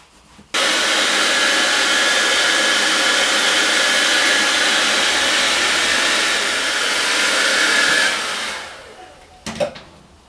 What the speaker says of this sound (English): let the air dryer do its job of actually heating it up and letting it soak into the fabric